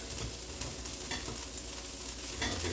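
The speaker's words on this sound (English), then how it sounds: "We're gonna put a little butter" Butter melting in a pan for Cajun chicken rigatoni gives a steady, close sizzle with soft stirring and scraping over a continuous crackling hiss.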